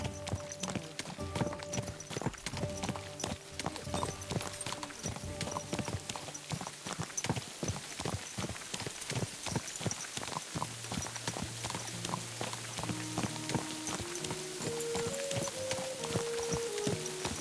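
Horse hooves clip-clop steadily through a PS5 medieval game scene, a close, rhythmic run of hoofbeats that continues the whole time, with game music playing beneath and a brief whinny.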